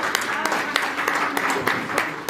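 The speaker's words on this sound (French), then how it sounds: "on peut l'applaudir" Audience applause at a press conference at the Casino de Paris, a moderate scattered clapping with sharp individual claps spread through, mixed with talk throughout.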